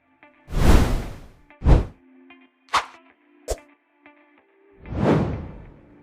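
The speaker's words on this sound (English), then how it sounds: "tap on Sound Effects and search for Whoosh" CapCut whoosh sound effects for animation play one after another, several distinct airy swooshes, some long and soft, some short and sharp, separated by brief gaps over a quiet background tone.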